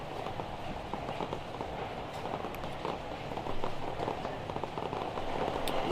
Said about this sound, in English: It is honestly tipping it down with rain right now.